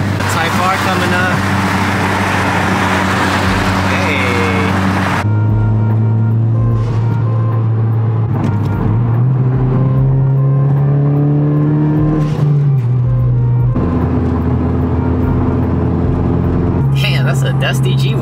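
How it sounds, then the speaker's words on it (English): A 10th-generation Honda Civic Si is heard from inside the cabin while driving: a loud, steady engine drone that rises in pitch, drops at gear changes, then climbs again, with road rumble underneath. "driving like this has made me realize how loud my car actually is"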